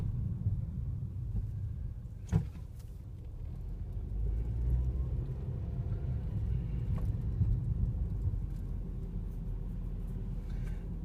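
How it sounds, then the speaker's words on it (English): Heavy car traffic on a busy road near a museum, a low continuous rumble of engines and tires with a brief sharp knock early on; almost no talk. "I'm just showing you guys the amount of cars."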